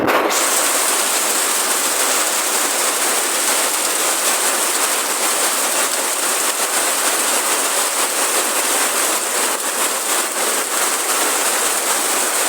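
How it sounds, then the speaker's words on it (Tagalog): Heavy rain pours down on a farm in a dense, unbroken hiss, loud and close, with no voices. "bumuhos po ang malakas na ulan ngayon dito sa farm"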